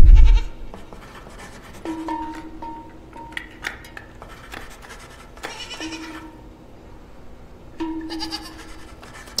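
Goats bleat repeatedly in the horror video game Video Horror Society, several drawn-out wavering cries spaced a few seconds apart over faint clinking game ambience, with no talk.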